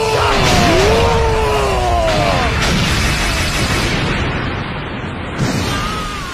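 A fire tornado shot in the soccer video game Inazuma Eleven Ares erupts as a loud whooshing, roaring blast with swooping tones, sustained for several seconds before fading.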